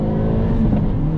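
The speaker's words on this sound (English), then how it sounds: "Let me show you and let you hear that automatic rev match downshift." Engine of a 2022 Hyundai Elantra N blipping for an automatic rev-match downshift into second gear, then pulling under throttle, a loud, steady, close growl with rising harmonics for just over a second, no talk.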